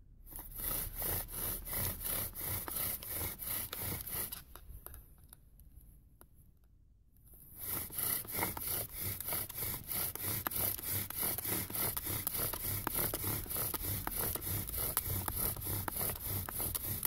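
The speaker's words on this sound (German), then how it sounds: "ich bohre im gleichen Loch nochmal mit ein bisschen mehr Druck" A drill bores into wood under heavier pressure, giving a steady, continuous grinding rasp that breaks off briefly near the middle and then resumes at the same loud, even level.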